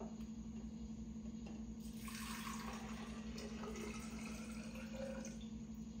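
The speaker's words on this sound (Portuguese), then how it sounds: "E aí agora, só colocar no vaso, tu vai botar água." Water poured into a plant vase, a steady trickling and splashing that swells after a couple of seconds and runs on continuously beside a low background hum.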